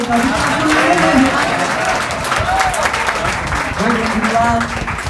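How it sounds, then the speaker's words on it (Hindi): Audience applause with crowd noise, loud and steady throughout, with voices present over the clapping, during a Hindi poetry recitation at a 2022 academy award ceremony in Byawara. "और एक दिन आए हैं तो तालियां बजा दो प्यारे"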